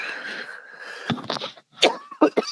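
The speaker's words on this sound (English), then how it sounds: "Ugh, coughing like crazy." A few harsh, close coughs burst out in quick succession after a low, breathy sound.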